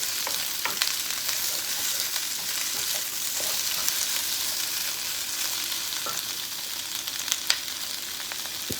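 Carrots and other vegetables for a chicken stir fry sizzle steadily in a hot pan, a bright continuous frying hiss close to the microphone with occasional stir clicks and crackles, no voices.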